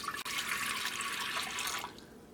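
Water pours in a steady splashing stream into a pressure cooker for making puttu from cooked rice, continuing for about two seconds before tapering off, with no voices.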